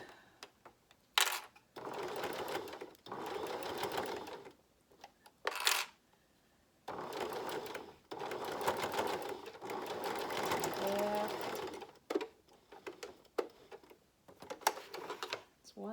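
A sewing machine stitches a fabric face mask in bursts of rapid mechanical whirring, several runs separated by short pauses and handling clicks, close and clear.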